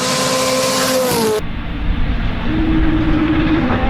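A rally car at Rally Finland drives through a tight curve, its engine note sliding downward as it passes, then cutting abruptly into a rough, rumbling roar.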